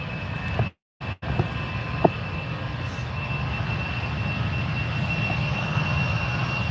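An EasyJet airliner departing Manchester Airport gives a steady, distant engine roar that holds evenly throughout, briefly cut off near the start.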